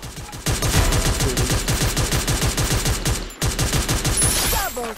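Rapid automatic gunfire in the mobile battle royale game Free Fire Max, a dense, loud stream of shots that breaks off for an instant and then resumes, with faint voices underneath.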